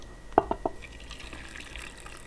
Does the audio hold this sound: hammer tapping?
no